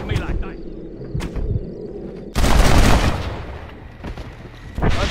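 Gunfire in the Western video game Red Dead Redemption, a loud burst of shots crashing in mid-way and ringing out over several seconds, with people talking before and around it.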